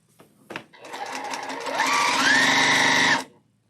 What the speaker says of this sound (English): there's nothing like piecing on a straight stitch machine